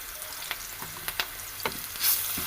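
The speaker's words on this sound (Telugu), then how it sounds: "అల్లం పేస్ట్ వేసినాక ఒకసారి కలుపుకుందాం." Ginger paste frying with onions in a pan, a soft steady sizzle punctuated by a few sharp taps and scrapes of a stirring spoon, near and quiet, without speech.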